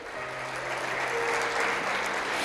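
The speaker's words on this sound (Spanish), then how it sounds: "volver a dar fuerte el aplauso." Steady applause from a church congregation fills the space, a dense continuous wash of clapping held at even volume throughout.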